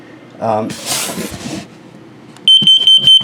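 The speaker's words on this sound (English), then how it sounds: "This is your carbon monoxide and LP gas detector." A voice speaks briefly, then a carbon monoxide and LP gas detector in a 2022 Flagstaff E-Pro 19FBS travel trailer lets out a series of sharp, high-pitched beeps in quick succession, close and loud.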